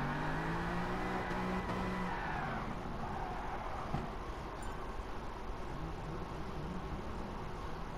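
Drift car engine in Gran Turismo Sport, revving under shifting throttle that rises, then falls away and settles into a steady drone, with faint tire noise.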